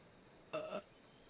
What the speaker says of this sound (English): I heard something burp.